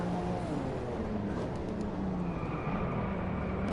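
Cars racing past and overtaking in Driveclub VR, a steady dense engine roar with shifting pitch throughout, loud and continuous with no talk.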